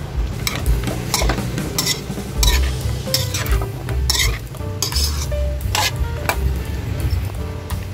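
Vegetables and shrimp being stirred in coconut milk with fish sauce, a utensil scraping and clinking against the pan in repeated strokes over a steady close sizzle.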